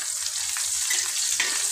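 Fresh green curry leaves crackle and sizzle as they hit hot oil, a close, steady fry with small pops and a brief stirring sound and no voices.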